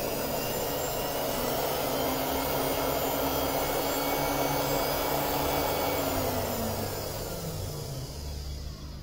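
A fabric cutting machine slices through a thick stack of lenisa cloth for bulk-cut jubah robes, a steady loud motor whine holding throughout with a slowly sliding drone that eases off near the end.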